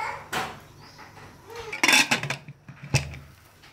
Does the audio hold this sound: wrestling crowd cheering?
no